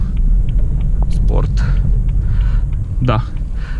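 A BMW fitted with winter tyres drives along a road, its steady low rumble and tyre noise filling the cabin throughout, with a voice speaking briefly over it.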